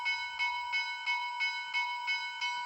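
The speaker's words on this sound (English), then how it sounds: "It sounds like a 1942 brass locomotive that hasn't been serviced in a while." Model train locomotive crawling at lowest speed step, giving a faint, even series of repeated metallic chuffs or clicks about three per second, close and alone.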